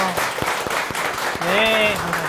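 Audience applause at a violin concert, a steady wash of clapping that fills the hall, with a voice briefly speaking over it.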